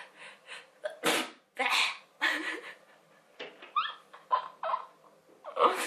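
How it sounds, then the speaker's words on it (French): A person sneezes sharply, with breathy, nasal vocal sounds and short noises before and after, close to the microphone in a quiet room. "J'ai envie d'éternuer."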